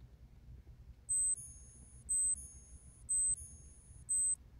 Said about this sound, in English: oh, and the alarm sounds awesome too. So I'm gonna actually do a test of that real quick.